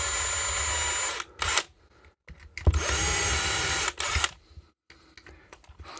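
Drill boring out rivets on a fan-assisted mosquito killer, loud whirring bursts of about a second each separated by quiet gaps and small clicks, close by with no talking.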